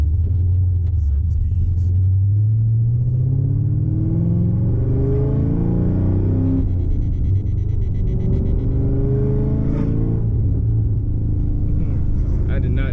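A 2018 Camaro ZL1 1LE with a full exhaust and manual gearbox accelerates hard, its loud engine droning upward in pitch, pausing for a gear change and then climbing again, heard up close from inside the car.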